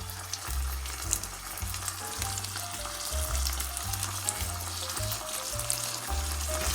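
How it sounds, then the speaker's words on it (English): Scallions frying with ground beef in a hot pan: a steady, close sizzle with stirring and no talk, over a low-pitched musical background. "Now I'm going to add in some scallions."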